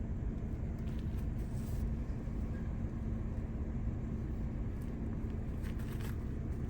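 Steady low road rumble and engine drone inside a moving car, constant and moderately quiet throughout, with no voices.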